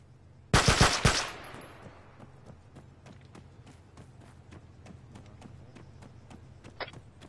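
A loud burst of automatic gunfire in ArmA 3, a few rapid shots close up followed by a string of evenly spaced, fainter single reports ticking on over a low steady hum.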